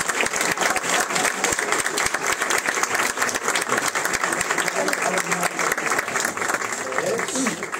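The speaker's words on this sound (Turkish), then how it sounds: "Kısacası alkışlarınızla Savaş Dinçer'in torunları" An audience at a theatre awards ceremony breaks into sustained applause, crisp dense clapping that holds steady throughout while a presenter's voice carries over it.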